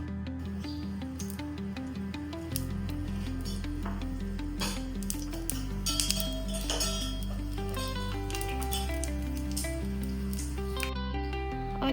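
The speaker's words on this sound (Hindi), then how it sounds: "और ये बाबू इधर बर्तन से खेल रही है।" A little girl plays with metal utensils at home, making scattered light clinks and clatters. The clinks keep coming over a steady tonal background.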